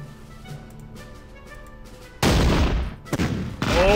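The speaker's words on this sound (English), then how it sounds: "now our two-pounder can fire, and it looks like we can actually hit these Panzer IIs" A two-pounder anti-tank gun fires at Panzer II tanks in the WW2 strategy game Battle Academy, a sudden loud blast bursting in halfway through after quieter ambience, then decaying before a second sharp report near the end.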